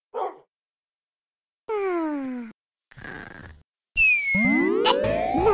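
A dog in Minecraft gives a few short synthetic bark-like yelps and chirps, separated by silences, with rising whistling tones near the end; no speech.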